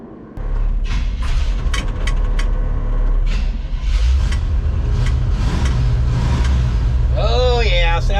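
A truck engine rumbles into life and keeps running steadily, a loud low idle with some revving, close by, with a few brief clicks and rattles and a dog-like whine near the end.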